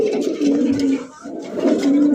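Large Bombay pigeons coo in two deep, rolling phrases at close range, with a short pause between them.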